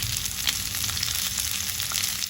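Onion and tomato sautéing in a pan for a Kerala-style chutney, a steady close sizzle with light crackles and occasional stirring, no voices.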